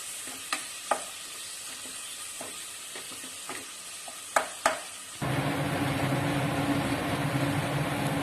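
Chicken stock is poured into a pan of frying chilies and garlic: a few scattered scrapes and clicks, then a sudden loud, steady sizzle that holds to the end.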